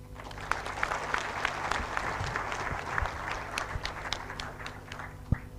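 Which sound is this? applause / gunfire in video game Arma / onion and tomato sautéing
applause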